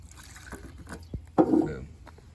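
Paint thinner poured into a kerosene lantern, a short liquid gush and trickle near the middle after faint handling noises, fairly close and quiet.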